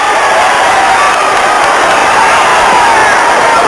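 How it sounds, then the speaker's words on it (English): Boxing arena crowd jeering during a Thomas Hearns versus James Kinchen fight, a loud, steady wash of booing and shouting voices with no breaks. "the crowd are jeering"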